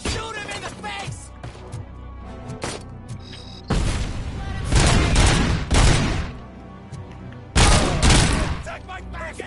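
Gunfire from the RoboCop game comes in loud, repeated bursts and fusillades, several dense volleys separated by quieter clicks and clatter, with voices mixed in.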